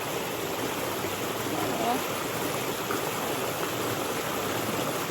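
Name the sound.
river water flowing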